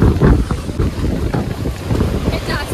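A boat moving across Pawna lake, its engine rumble and water wash blending with strong wind buffeting the microphone, loud and close throughout.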